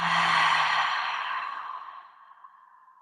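A single slow exhaled breath during a vinyasa yoga session, soft and close, tapering away gradually with no talking.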